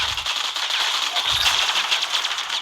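Rapid gunfire from the shooting video game Frag Pro rattles in dense, continuous bursts, loud and close, with almost no gaps between shots.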